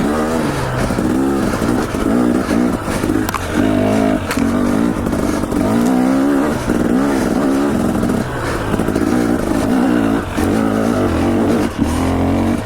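A motorcycle accelerates up a dirt trail, its engine revving loud and close as it climbs through gear changes, with rattles and scrapes from the rough ground throughout and no talking.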